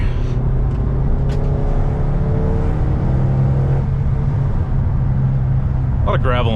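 A 2007 Mitsubishi Eclipse SE pulling hard on a gravel-strewn road, a loud steady engine drone and road rumble from inside the cabin with a rising tone, with a voice briefly near the end.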